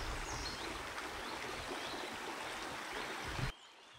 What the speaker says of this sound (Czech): Skály, kde ze skály jsou vývěry Jedovnického potoka.